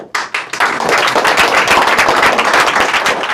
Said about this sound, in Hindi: स्टार्ट ताली कीजिए